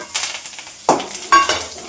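Curry leaves dropped into hot oil in a pan, a few sharp bursts of sizzling and spattering with stirring noises between them, close and fairly loud, with no speech.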